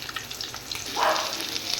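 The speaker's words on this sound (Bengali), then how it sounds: "ডিমটা ভাজা হয়ে গেছে, এবার ডিমটা তুলে নেব" Egg frying in oil, a brief close sizzling hiss that swells for a moment before easing.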